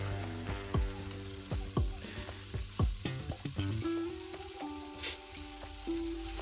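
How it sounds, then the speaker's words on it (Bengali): Halved pointed gourd (potol) pieces dropped into hot oil in a wok for patal posto, giving steady close sizzling with sharp clanks of a spatula stirring against the pan. "ভেজে রাখা পটলগুলো যোগ করে দিচ্ছি। এটাকে আমরা এখন মিনিট 5 ধরে লো ফ্লেমে কষাতে থাকবো।"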